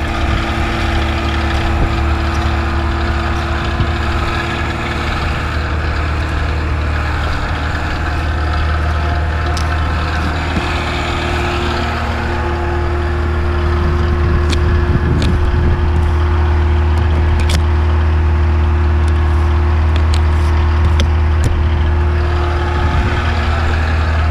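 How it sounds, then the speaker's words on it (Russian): A car engine idles steadily at elevated warm-up revs in winter, a constant loud droning hum lasting throughout with a few faint clicks and no speech. "Че такие высокие обороты прогрева?"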